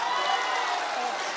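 Audience applause at the Lal Qila Mushaira in 2018, a dense, steady wash of many hands clapping throughout, fairly loud and continuous without pauses.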